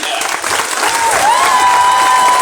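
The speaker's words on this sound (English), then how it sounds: "please join me in a round of applause for the company staff of Company" A crowd applauds at a US Marines graduation ceremony in San Diego, dense loud clapping throughout, with a faint whistle-like tone gliding across the middle.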